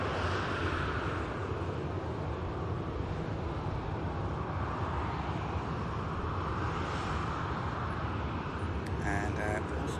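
Airliner taxiing at Manchester Airport, a broad steady engine rumble and roar heard from outdoors at a distance, with wind buffeting the microphone throughout.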